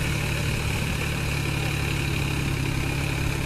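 Diesel engine of a New Holland 4710 Excel 4WD 47 hp tractor working in a muddy field in low gear, a steady, close, loud low rumble with constant chugging and no break.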